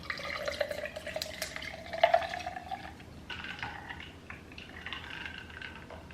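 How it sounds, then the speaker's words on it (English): Blue raspberry electrolyte drink trickles over ice into a glass, a quiet liquid pour with a few small clinks and splashes, close up and faint, with no one talking. "I like to pour out 1 serving and have it with ice"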